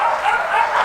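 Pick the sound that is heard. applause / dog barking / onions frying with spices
dog barking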